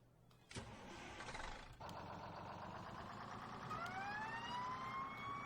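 A fire engine starts up in Farming Simulator 17: a sharp engine crank and rumble, then a siren that winds up and rises steadily over the idling motor, loud and close with no talk.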